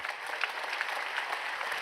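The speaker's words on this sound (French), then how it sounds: "Applaudissements pour eux, merci beaucoup" A ceremony audience applauds after the final bow, a fairly faint, even wash of many hands clapping steadily with no break.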